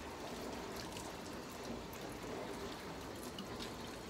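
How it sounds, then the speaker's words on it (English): Hands being washed under a running kitchen tap, a steady close hiss of flowing water and splashing that continues throughout without speech. "And then we're gonna wash our hands."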